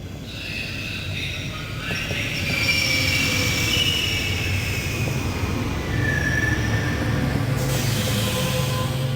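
A train in the adventure game The Longest Journey rolls steadily along with a loud rumble, high metallic wheel squeals rising and fading over the rails throughout.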